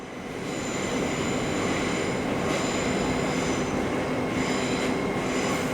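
LNER Azuma train at London King's Cross station, a steady loud rumble of rolling wheels and running gear filling the station throughout, with faint high squeal tones above and no talk.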